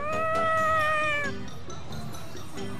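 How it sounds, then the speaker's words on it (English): A cat in the video game Tales of Xillia 2 gives a drawn-out, clear meow that falls at the end, followed by quieter game sounds and faint background noise. "Were you talking to that kitty?"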